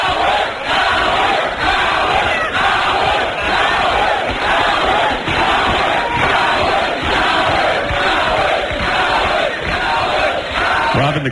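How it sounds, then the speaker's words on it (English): Dense, steady crowd noise of many voices shouting and yelling together, loud and continuous, at an angry political gathering. "the crowd is visibly angered"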